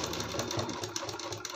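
A sewing machine runs steadily, stitching along the edge of a kurti hem, its rapid even needle rhythm close and continuous throughout the short burst.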